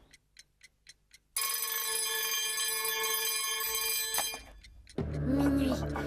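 A few soft ticks lead into a sudden loud, continuous alarm clock ringing that stays steady for several seconds, breaks off, then gives way to a louder different tone.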